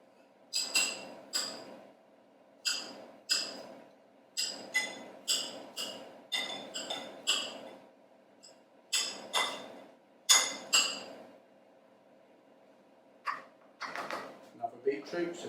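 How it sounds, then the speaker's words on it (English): Beetroot is finely sliced with a knife on a board, giving a series of crisp, close chopping strokes in short bursts with small pauses between them. "get beetroot, just finely slice it up"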